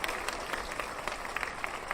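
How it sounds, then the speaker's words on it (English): A brief burst of applause, with many hands clapping quietly at a distance and a faint murmur mixed in. "Round of applause for CBP."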